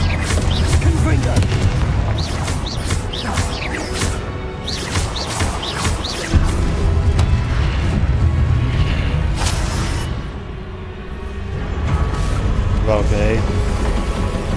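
Heavy booming blasts from Confringo spells cast in the video game Hogwarts Legacy erupt repeatedly, with crashing debris, mixed with other game noise and a voice speaking over the action.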